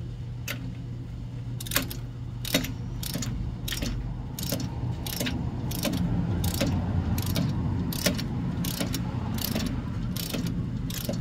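A torque wrench ratchets on a ball joint bolt up to 30 foot-pounds during an offroad ball joint install, producing a regular series of sharp clicks over a steady low hum of background noise, close and clear.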